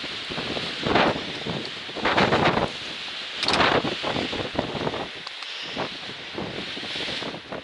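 Strong wind on the Bigelow Mountains' South Horn summit buffets the microphone in repeated gusts, roaring and rustling with brief lulls between blasts outdoors.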